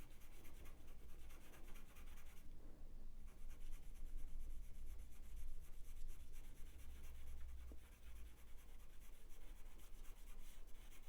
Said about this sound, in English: I've got a sharp bit on the pencil and it's